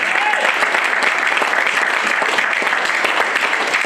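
A church congregation bursts into loud, sustained applause acclaiming the Lord, a dense wash of clapping that fills the room steadily from start to finish, with a few voices briefly rising above it.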